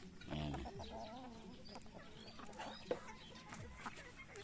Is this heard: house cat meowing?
no